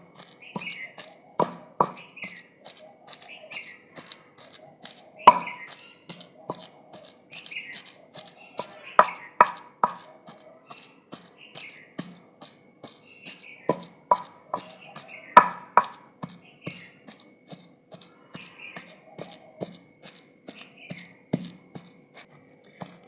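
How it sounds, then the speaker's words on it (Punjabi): Chickpeas are pounded by hand for tikki in a village kitchen. Sharp wooden thuds repeat in a steady, uneven rhythm throughout, close and fairly loud, with brief pauses between bursts. "ਲਓ ਆਪਾਂ ਛੋਲੇ ਕੁੱਟ ਲਏ ਜਮਾਂ ਕੁੱਟ ਲਏ ਆਪਾਂ"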